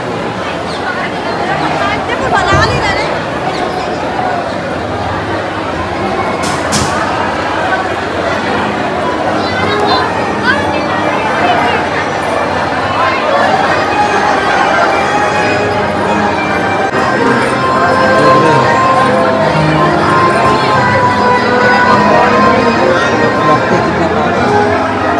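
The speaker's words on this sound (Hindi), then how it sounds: "इधर भी बहुत ही भीड़ है" Dense crowd chatter fills the grounds of Prem Mandir temple in Vrindavan, a steady babble of many voices at a constant level throughout, with a brief bell-like ring near the start.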